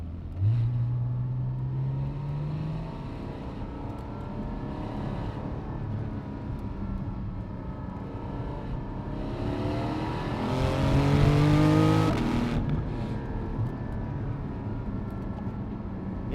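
Porsche 718 GT4 with the 4.0 engine revving hard on the road, its rising engine note sweeping up in pitch as it accelerates, swelling louder near the middle, heard from inside the cabin with no talk.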